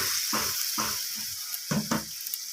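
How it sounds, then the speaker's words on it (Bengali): Water poured into a sizzling potato and capsicum curry in a pan, a hissing, rushing sizzle with several bursts of splashing and bubbling, close up and without speech. "আমি এখানে নর্মাল জল দিয়ে দিলাম"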